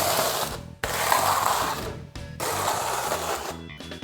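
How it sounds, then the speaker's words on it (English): A notched trowel scrapes tile mortar across a floor substrate in repeated gritty strokes, each a sustained rasping scrape separated by brief pauses, close and moderately loud with no talk. "now I'm going to use the notch side of the trowel and spread the mortar out"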